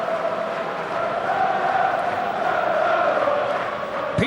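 At a Czech Republic vs Germany Euro qualifying football match in 2007, a stadium crowd applauds Kurányi's shot with a broad, steady roar that holds evenly from start to finish, distant and sustained.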